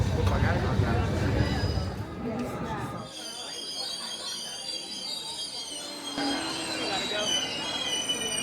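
A train arrives at a station platform in Italy with rumbling wheels, then bright metallic squeals from braking wheels swelling and fading over several seconds. Voices murmur faintly nearby.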